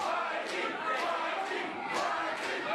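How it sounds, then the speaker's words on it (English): A wrestling crowd at a Gym Wars All Pro Wrestling show roars continuously, a dense wash of cheering and shouting with swelling peaks, loud and filling the hall. "you can hear the Gym Wars crowd"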